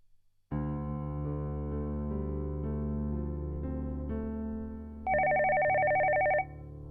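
A phone rings on an outgoing call in a domestic drama scene: a steady repeating electronic ring tone plays alone and clearly, then a brighter, louder warbling burst near the end.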